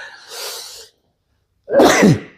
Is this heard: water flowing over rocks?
no